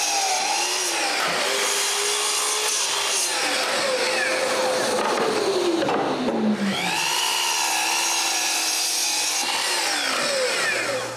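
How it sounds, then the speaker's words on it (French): A power tool cuts through hardwood with a loud, continuous whine that sweeps up and down in pitch as the blade loads into the wood, harsh and close throughout. "je coupe 2 morceaux bien carrés"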